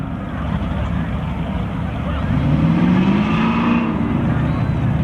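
Camaro drag race cars, an '86 Camaro and a 2000 Camaro, launch at a spectator drag finale, their engines roaring loud and steady with a rising pitch over crowd noise and an announcer's voice.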